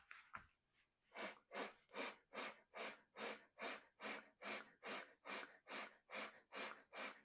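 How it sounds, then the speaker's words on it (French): Breath of fire in a beginner Kundalini yoga kriya: about fifteen rapid, evenly spaced forceful nasal exhalations pumped from the navel, steady and close, after a short sniff. "on va refaire la respiration du feu. Donc, pomper les nombrils."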